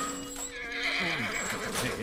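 A horse in The Last of Us video game gives a clear, close neigh lasting about a second, with a few hoof clops around it and no talk.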